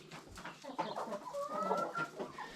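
A red rooster clucks close by, a run of short throaty calls with uneven rhythm over faint ambient noise.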